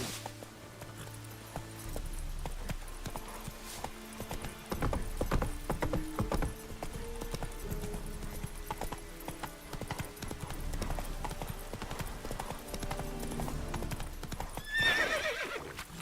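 A horse gallops in The Witcher 3 video game, its hooves making a rapid, steady clip-clop throughout, with a whinny and game mechanisms in the background.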